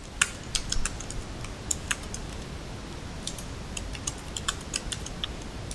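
C# code being typed on a computer keyboard, a quick irregular patter of crisp key clicks at close range, steady throughout with no talk.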